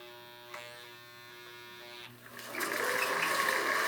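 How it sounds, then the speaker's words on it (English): Motor fed through a Powerstat variable transformer at low voltage, giving a steady faint electrical hum that swells into a louder, rougher buzz partway through as it strains to run. "as I turn this on, you'll start hearing it wanting to run. You can hear it kind of wanting to, you hear a little bit buzz"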